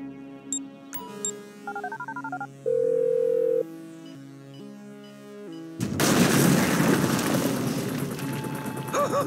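A phone is dialed in GTA 5, with a run of distinct keypad tones of varied pitch and a steady held tone, followed by a sudden loud burst of noisy game action with gunfire-like din.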